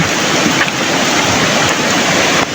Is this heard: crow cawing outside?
no